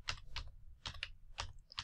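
An email address is tapped out on a computer keyboard in quick, soft bursts of keystrokes separated by short pauses, close and quiet, with no talking.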